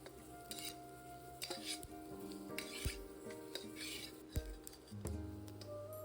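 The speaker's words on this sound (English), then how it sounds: "Keep stirring for another 2 minutes until the peppers get soft." Peppers stirred in a hot pan for Hunan pork stir fry, a spatula scraping and clinking against metal in irregular strokes over a soft, steady sizzle, fairly quiet and close.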